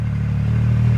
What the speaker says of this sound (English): I've got a 3-inch chambered exhaust system on this X3